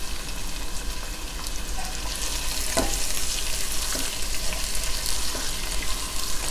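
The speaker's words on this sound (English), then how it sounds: "Okay, we added the onions. Now we're going to cook this until the onions turn a little translucent." Onions and garlic fry in a pan, a dense, even sizzle that carries on steadily up close with an occasional light clink of a utensil.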